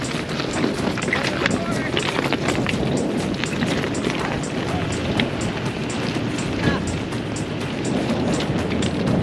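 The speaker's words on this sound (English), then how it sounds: "It is a little bit windy" Steady wind rushes and buffets the microphone in a continuous dense roar, with no pauses and no clear voices.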